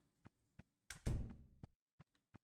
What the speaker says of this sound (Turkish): Aç kapıyı.